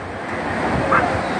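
Water from the Kotmale Reservoir spill gushes downstream, a continuous broadband rushing roar that holds steady throughout, with wind-like noise mixed in and no voices.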